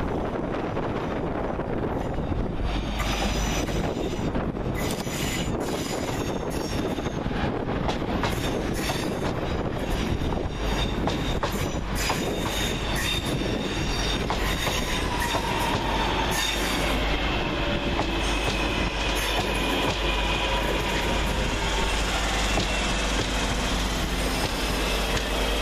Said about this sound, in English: 323 211 and 323 205 work the 1054 West Midlands Railway service from Lichfield Trevally to Bromsgrove